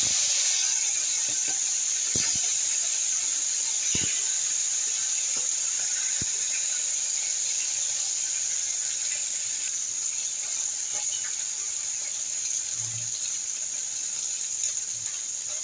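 Small Morola fish frying in hot oil, a steady bright hiss that carries on without a break, broken by occasional sharp pops and crackles, with no talking.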